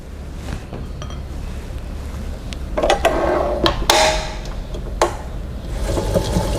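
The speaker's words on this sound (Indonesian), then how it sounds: "telur utuhnya kita aduk" Whole egg is stirred into red velvet soft cookie dough in a bowl, giving a close, continuous scraping and clinking as the utensil works through the mix, with a few louder knocks against the bowl.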